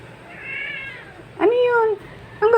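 A cat named Snoopy gives a soft, drawn-out meow and then two louder, rising meows close by, with a person's voice talking around them.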